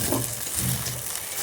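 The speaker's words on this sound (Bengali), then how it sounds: "এবার এটাকে ভালো করে ভাজার চেষ্টায় আছি" Gola ruti flatbread fries in a pan with a dense, steady sizzle and soft crackling, close and even, with no talking.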